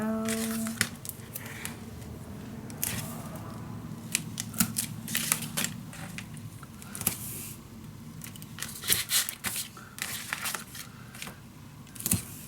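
Paper is cut for a butterfly-themed mini album in a run of soft, irregular snips and crisp crinkles, close and fairly quiet, with small handling taps between the cuts.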